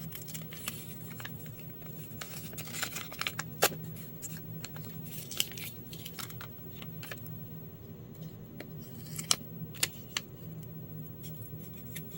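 Scissors snip through used tea bags in a string of quiet, irregular clicks and crisp cuts, close and soft over a low background hum.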